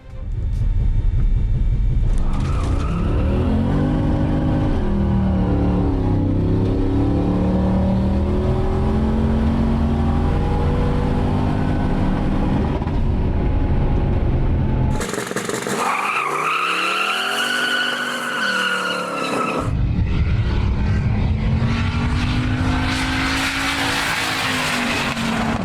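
A turbo Honda-powered MR2 drag race car making over 800 rear-wheel horsepower on 13 psi through a two-speed Powerglide accelerates hard with a loud, sustained roaring rumble and a rising high whine, followed by another loud pass.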